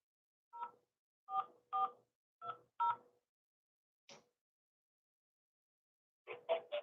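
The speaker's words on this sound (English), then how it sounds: "To get started, say or enter your 7-digit one-time passcode," Telephone keypad DTMF tones entering a seven-digit one-time passcode on an automated phone line, a series of short clear beeps in uneven rhythm with a pause before a final cluster of three quick tones.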